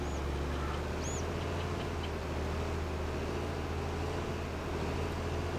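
Ducks on a farm in a farming simulator video game give a couple of faint, brief quacks early on, barely rising above a steady wash of ambient noise that continues throughout.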